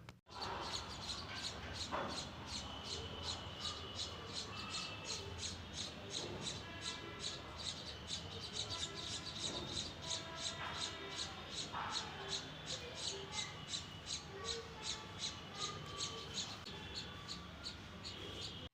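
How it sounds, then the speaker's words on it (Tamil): Sparrow chicks calling from a rebuilt nest, a steady rapid series of high squeaky cheeps continuing throughout, fairly faint and close. "குருவி குஞ்சினுடைய சத்தம் கேட்குது பாருங்கள்."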